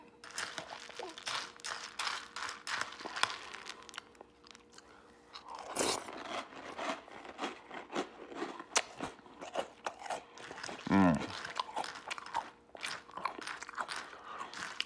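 Close, loud crunching as crunchy chocolate cereal in milk is chewed, in repeated irregular bites with brief pauses between.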